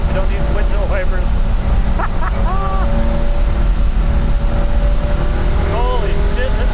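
A 1974 Porsche 911 engine pulls hard in third gear near 6,000 RPM, a loud, steady drone with rising harmonic sweeps, while someone talks over it.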